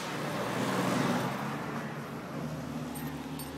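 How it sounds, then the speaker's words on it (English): A car passes on a highway near a Bohol forest, a steady broadband road rumble that swells early and eases off, heard alone at moderate distance with no talk. "That's a car."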